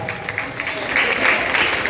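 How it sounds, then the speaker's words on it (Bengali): An audience applauds at a karate coaching camp ceremony in Dhupguri as a headmistress is honoured, a short burst of clapping that swells slightly toward the end, with a voice faintly audible beneath it. "হাততালি হবে।"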